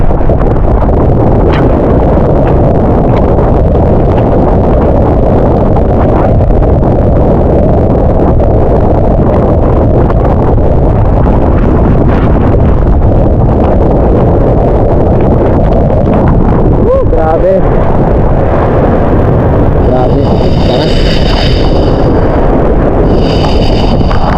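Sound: strong wind and rain

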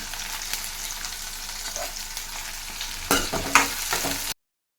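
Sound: onions frying in a pan for egg curry

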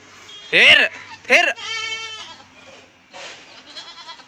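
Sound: goats bleating

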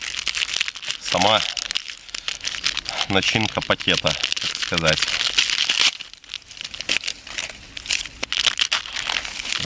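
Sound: unwrapping parchment-wrapped individual dressing package

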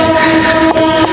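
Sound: train passing

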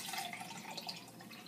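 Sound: water being poured into a container

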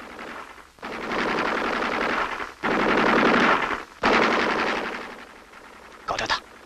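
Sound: enemy machine gun firing in war film

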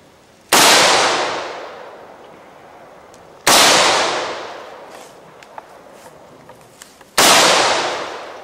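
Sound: gunshots fired into a hard drive

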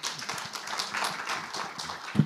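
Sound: panel audience applause

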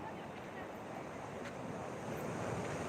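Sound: sea waves near a boat house

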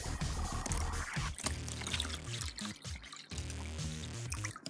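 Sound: water being poured into a pet's bowl

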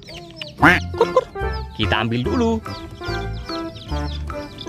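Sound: chicken clucking, rainbow chicken

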